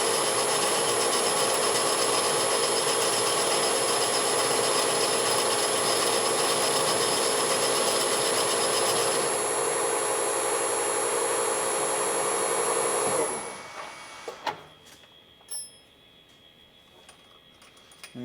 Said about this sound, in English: he's using this counterboring tool to counterbore 220 thousandths deep for this bolt